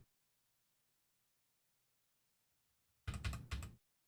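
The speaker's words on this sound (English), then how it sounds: "so I can type whatever I want." A short burst of computer keyboard typing, two quick clattering bursts of keystrokes close up, follows several seconds of near silence.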